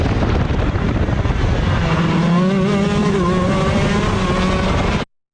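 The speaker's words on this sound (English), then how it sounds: "let's bring the volume back up so we can hear your braking and throttle application" A shifter kart on track: a loud, high-revving engine screams steadily, with pitch sweeps as the driver brakes and gets back on the throttle, then stops abruptly.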